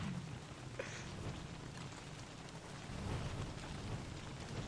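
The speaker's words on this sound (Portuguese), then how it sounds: "Tá chovendo, velho." Steady rain pours in Don't Starve Together during a frog rain event, a dense continuous hiss with low rumbling underneath and no voices.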